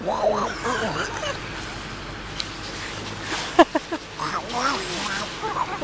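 Ducks quack intermittently over a steady outdoor background, while people talk throughout.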